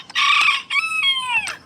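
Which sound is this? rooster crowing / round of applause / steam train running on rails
rooster crowing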